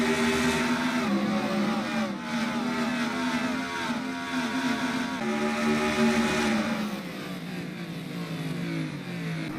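NASCAR stock cars racing down Shoreline Drive on the Long Beach street circuit, a loud continuous roar of several engines with pitch rising and falling as they accelerate and shift, close and without talk.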